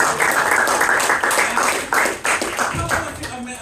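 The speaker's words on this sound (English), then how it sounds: "let's have a round of applause for our sound guy, ladies and gentlemen" Audience applause for the sound technician at a Colchester Fringe hypnosis comedy show, a dense, lively round of clapping from the crowd that tapers off toward the end, with voices mixed in.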